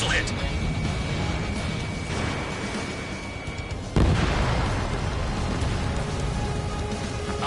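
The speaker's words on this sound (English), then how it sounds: "Missile hit!" A missile strikes and explodes in a military combat video game: a sharp, heavy blast bursts out midway through a constant rumbling battle din, with voices over the action.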